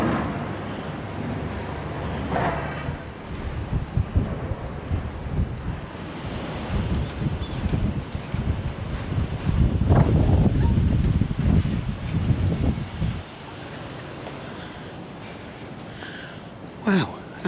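Wind roars and buffets the microphone outdoors, loudest in the middle stretch. It drops to a quieter background hush toward the end. A voice is faintly present beneath the gusts.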